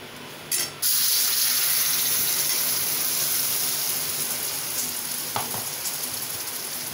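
Soybean chunk masala with puree roasting in a pan, a loud continuous sizzle and hiss after a brief start, with occasional light clicks of stirring.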